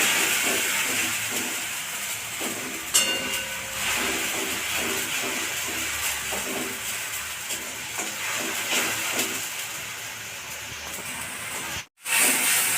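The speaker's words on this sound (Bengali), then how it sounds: "পেঁয়াজটা আমার যতটুকু ভাজা দরকার আমি করে দিচ্ছি।" Onions fry in a pan while chicken rezala is being made, giving a steady, close hiss and sizzle that runs on without a break before cutting out briefly near the end.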